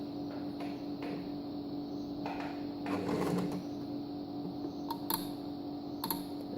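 A sewing machine runs slowly and steadily, stitching a centered railroad zipper in one continuous pass at regular stitch length, its soft mechanical chatter holding close and even with a few brief clicks near the end.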